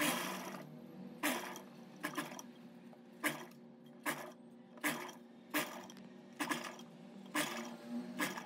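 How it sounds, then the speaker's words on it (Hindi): A sewing machine stitches kurti fabric with short, separate runs of rattling clicks, about ten bursts spread over several seconds, close and quiet, with no voices. "यहाँ से यहाँ तक तो इसमें प्लेन सिलाई लगा देंगे सीधी वाली"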